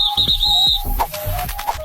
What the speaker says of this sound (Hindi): सीटी बजाकर कैप्टन ने उसे दोबारा लाइन में लगा दिया